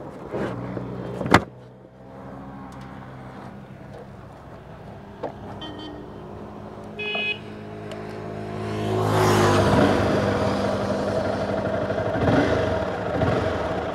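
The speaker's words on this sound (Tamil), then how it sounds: "வண்டியோட எக்ஸாஸ்ட் சவுண்டு பார்த்திங்கன்னா ரொம்பவே ஸ்மூத்தாக இருக்குது." A Honda CBR 250 motorcycle engine and exhaust idle with a low, steady hum, then pick up into a louder, rising rev near the end, with some clatter and a few sharp knocks, recorded nearby.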